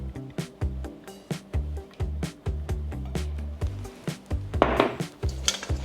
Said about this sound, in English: Then I mix them all up like this.